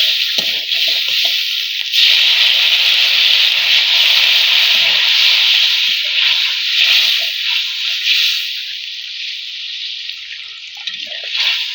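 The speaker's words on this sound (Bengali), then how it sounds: "এখন জল দিয়ে দিব।" Water poured into hot fried spice masala for an egg curry, hissing loudly and steadily as it hits the pan, a sustained close-up sizzle with no talk.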